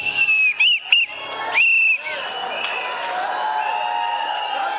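A whistle is blown several times in short and longer shrill blasts, close and loud, followed by crowd noise and applause in a large gathering.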